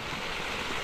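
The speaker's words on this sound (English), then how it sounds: "Dirty waterfall." Dirty water rushes down a waterfall in a dense, continuous roar, steady and close, beside a running trail, with no other sounds standing out.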